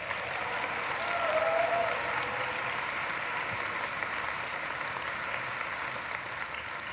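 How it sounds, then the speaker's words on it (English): Audience at a university commencement in an arena applauds musicians, a sustained, even wash of many hands clapping heard from a distance, with no voices. "Let's give them a round of applause"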